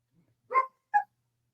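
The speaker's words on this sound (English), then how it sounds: "there may be a little bit of a off-camera cameo of our dogs making themselves known" Pet dogs bark off camera in a home, two quick mid-pitched barks and the start of a third, fairly close and clear, with no talk over them.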